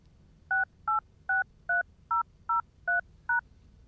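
Eight evenly spaced telephone keypad DTMF tones beep one after another as a phone number is entered into an automated account line, clear and steady over a quiet background.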